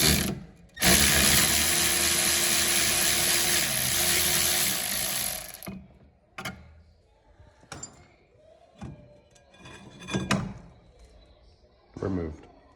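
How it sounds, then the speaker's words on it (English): A ratchet with a 14mm socket loosens the rear caliper bracket bolts on a Mazda 3 during a brake pad and rotor job. A long, loud run of steady ratcheting clicks is followed by scattered clicks and metallic clanks. "With a 14mm socket, remove your lower caliper bolt and your upper caliper bolt to remove your caliper bracket."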